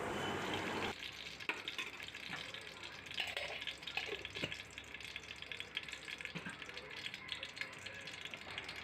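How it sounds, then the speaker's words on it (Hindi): Cooking oil and desi ghee being poured into a large pot, a soft running liquid trickle with light clinks and rattles of the container, faint and close, fairly steady through the pour. "अब मैं इसमें डाल रही हूँ आधा कप तेल, और साथ ही इसमें आधा कप देसी घी भी शामिल कर देंगे।"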